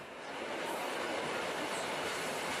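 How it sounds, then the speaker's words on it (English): Passenger train running through a tunnel in a valley, a loud, dense and steady roar of wheels and rushing air that swells in the first half second and then holds without speech. "Is the train going to go into the tunnel?"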